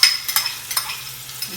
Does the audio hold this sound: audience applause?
no